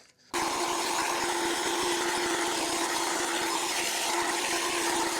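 A power hedge trimmer cutting through dwarf yaupon shrubs starts abruptly and runs as a loud, continuous buzzing whine with a rough rattling edge, close by and steady throughout, with no talking.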